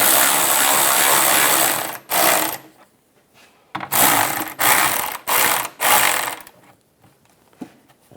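A hand ratchet tightens the engine splash shield bolts on a 1999-2006 Chevrolet Silverado 1500, clicking rapidly and loudly in several separate close-up bursts broken by short quiet pauses.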